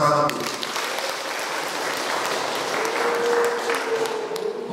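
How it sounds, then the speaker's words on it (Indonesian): An audience at a village community meeting with a regional legislator claps together, a dense, steady ripple of applause that holds for several seconds, with a voice audible through it. "Tepuk tangan untuk masyarakat."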